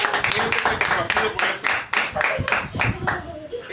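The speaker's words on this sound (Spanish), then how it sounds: "Dale un aplauso a Dios por eso." A church congregation claps hands in a lively, fairly even rhythm, many hands together at close range, with voices mixed in beneath the clapping.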